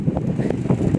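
Wind buffets the microphone in a continuous low rumble, gusting unevenly throughout with no voices.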